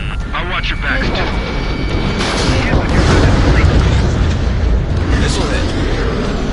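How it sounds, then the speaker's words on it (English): A missile-hit explosion in the Ace Combat VR flight game: a loud, sustained booming rumble with broad roaring noise that swells around the middle and stays dense throughout, with game voices talking over it. "Missile hit."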